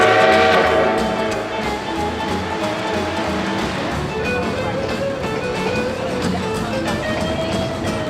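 A steam train rolling along the tracks on a long ride beside cliffs, a steady, continuous rumble and rattle of carriages with some tonal ringing, loud and close throughout.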